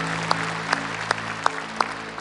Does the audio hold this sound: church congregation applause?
yes